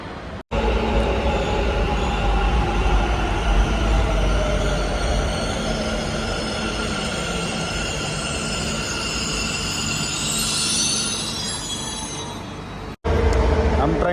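A Bengaluru metro train pulls into a station with a loud, steady rumble of wheels and motors. A hissing swell rises near the end, and voices can be heard faintly under the noise.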